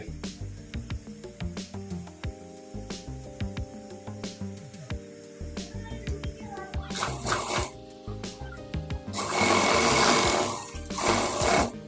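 A sewing machine stitches a salwar waistband in short, rhythmic runs of rapid clattering, then breaks into longer, faster, louder bursts toward the end, heard up close.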